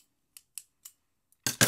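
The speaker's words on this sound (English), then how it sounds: "So you're going to need some scissors." Scissors are handled nearby, giving three light metallic clicks spaced apart, then two louder, sharper snips close together at the end, against an otherwise quiet background.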